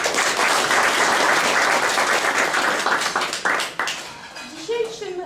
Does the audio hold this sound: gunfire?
no